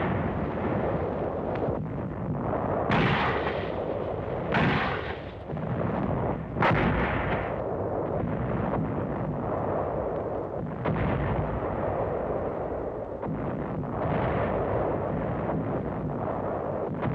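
Machine gun fire and bursts of combat gunshots from WWII fighting in Burma near the Lido-Burma road, a series of sharp loud blasts recurring through the stretch over a steady rumbling background.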